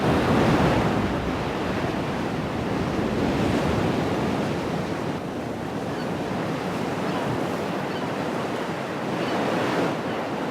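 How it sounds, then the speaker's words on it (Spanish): Atlantic ocean waves breaking on rocks off the Galician islands in strong wind, a loud, continuous roar of surf with surging swells and heavy wind noise buffeting the microphone. "Los fuertes vientos que empujan toneladas de agua hacia las rompientes"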